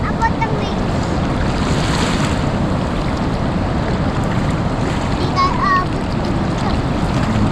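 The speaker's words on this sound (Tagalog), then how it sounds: "Ayan, maliliit lang na alon dito." Small ocean waves wash onto a rocky Siargao beach in a steady surf roar with wind buffeting the microphone, and voices talk faintly underneath.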